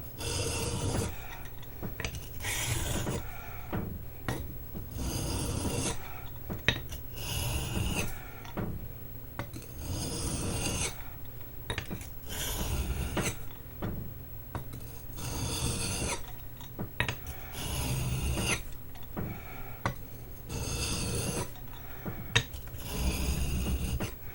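A knife is drawn back and forth across a Baryonyx American Mutt sharpening stone to remove a stubborn burr, giving steady rhythmic raspy strokes in repeated bursts, close and fairly loud, with no talking.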